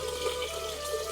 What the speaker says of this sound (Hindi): पहले चावल धोते हैं भाई पानी में